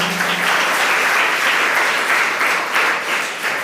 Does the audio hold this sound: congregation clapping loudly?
yes